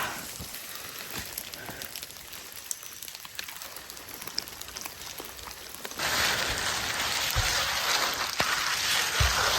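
Rain falls on a misty, low-vegetation mountain trail on Gunung Raung, a steady hiss of drops that gets noticeably louder partway through, with no voices.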